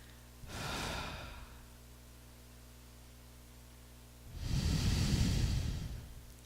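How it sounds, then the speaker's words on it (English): Long, smooth breaths during a yoga kriya, lying with feet pressed into a strap: two slow, airy breaths, close and soft, separated by a few seconds of quiet. "Long, smooth breathing right here."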